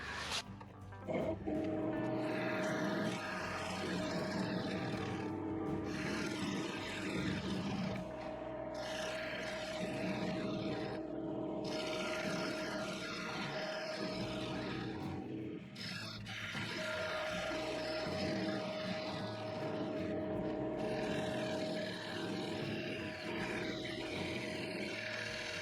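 A wood lathe spinning a maple burl bowl at 900 RPM, giving a steady whining hum with a sustained tone throughout, broken by rough scraping bursts from a heavy half-inch bowl gouge cutting the wood.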